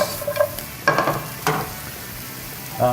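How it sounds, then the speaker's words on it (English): Shrimp, garlic, shallots and onions sautéing in a pan, a steady sizzle broken by several bursts of scraping and stirring, close and fairly loud. "We're just going to saute both of these off really nice."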